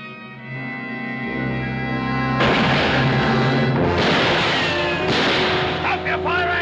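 Loud gunfire and booms in a western battle scene against Paiute fighters, layered over a swelling orchestral score.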